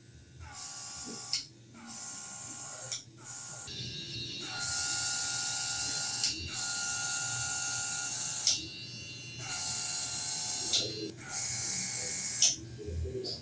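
A barber's airbrush gun sprays in repeated bursts of a few seconds each, a loud close hiss stopping and starting with short pauses.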